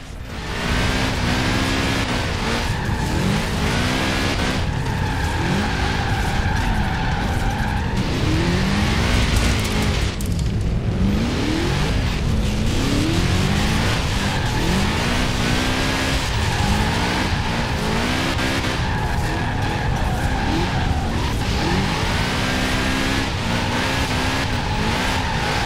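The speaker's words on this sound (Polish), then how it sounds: "wejść w drift jest łatwo, ale przesterować go można też łatwo" A BMW X6 M drifts in the racing game Forza Horizon 4, its engine revving loudly and continuously while tires squeal in long, rising and falling screeches through repeated slides.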